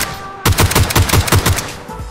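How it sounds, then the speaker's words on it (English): G36 rifle fired in single taps in PUBG on Xbox, a loud, close run of about eight evenly spaced sharp shots after a brief lull, each with a short ringing tail. "this next guy will really show you how good this G36 is as a single tap weapon"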